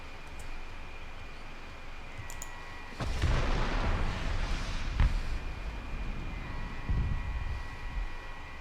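Missile impact on an SU-25K ground-attack jet in a combat video game, fired from a Strela-10M launcher, heard as a sudden loud blast around the three-second mark followed by a rumbling burst and a second thud, with steady game ambience throughout.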